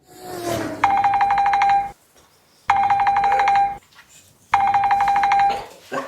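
A telephone rings in three evenly spaced bursts, each a bright trilling electronic ring of about a second separated by short pauses, loud and close.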